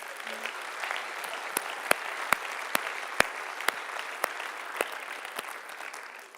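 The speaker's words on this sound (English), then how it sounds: "Give yourselves a round of applause" Applause from a party conference audience in a large hall, a dense wash of clapping with sharper individual claps standing out, steady and moderately loud throughout before easing slightly at the end.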